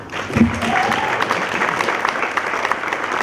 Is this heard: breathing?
no